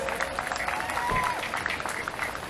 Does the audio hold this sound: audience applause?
yes